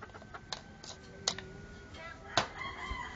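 Chickens with a rooster close by: a faint, continuous background with soft clucks and several short sharp bursts, including one crow-like call near the end, amid low ambient noise.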